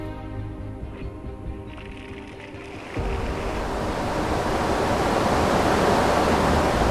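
Heavy spray of cold hydrant water drums onto a motorhome, mimicking an intense thundery rain shower. A dense, steady rushing hiss that swells louder partway through and stays close and continuous.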